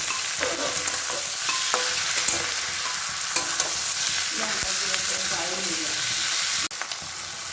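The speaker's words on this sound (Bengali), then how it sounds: "পেঁয়াজের মধ্যে এই যে চিকেনগুলো দিয়ে দিলাম।" Chicken fries with onions in a pan for a homemade biryani, a loud steady sizzle with stirring and spatula scrapes, and a sharp clank near the end.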